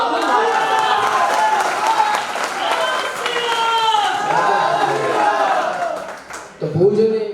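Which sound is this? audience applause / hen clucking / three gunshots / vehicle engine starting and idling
audience applause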